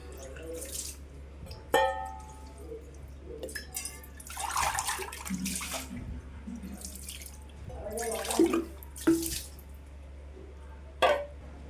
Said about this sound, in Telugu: ఇప్పుడు దీన్ని వాటర్తో ఒకసారి వాష్ చేసేద్దాం